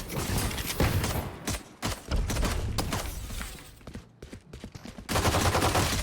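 Video game gunfire crackles in rapid bursts and single shots with brief pauses between volleys, close and fairly loud.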